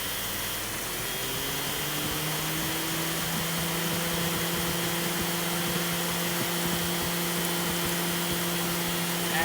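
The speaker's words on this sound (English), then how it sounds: "we do have our fan spinning now" A new radiator fan motor with a new resistor spins up in a Cadillac CTS, giving a steady, loud whirring drone with a constant hum that holds unchanged throughout, with no talk over it.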